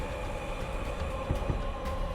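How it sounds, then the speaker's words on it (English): A train in a roguelite bullet-heaven game rolls along with a continuous low rumble and steady tonal hum, broken by a couple of soft, dull thumps, heard alone without talk. "Big choo-choo. We're a train."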